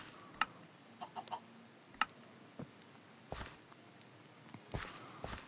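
Sparse clucks from a chicken in Minecraft, alongside a few soft clicks and footstep-like taps, over quiet background hiss.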